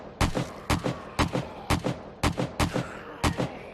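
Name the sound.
gunfire in the video game 7 Days to Die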